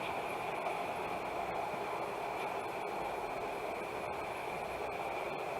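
A model train runs steadily along its track with a continuous whirring hum and faint periodic clicks, close and moderately quiet.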